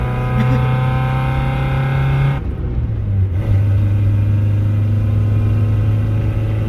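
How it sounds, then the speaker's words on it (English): A car engine drones loudly from inside the cabin, holding steady, dipping briefly at a shift, then settling into a lower, stronger hum as the car picks up speed. "I'm gonna have to accelerate now."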